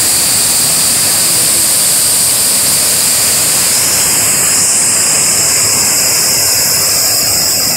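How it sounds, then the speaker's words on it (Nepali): Black, dark-coloured water rushes down a waterfall beside a mountain trail, a loud, unbroken roar of falling water filling the scene without speech. "एकदम काला पानी, ब्लैक वाटरफॉल"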